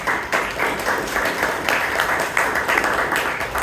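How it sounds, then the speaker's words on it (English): At a Toastmasters club's 29th anniversary meeting in Bangalore, the audience claps for Robinson D'Souza in a short, fairly dense burst of hand claps lasting a few seconds. "Please give him a big round of applause."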